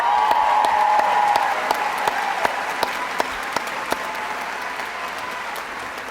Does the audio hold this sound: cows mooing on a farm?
no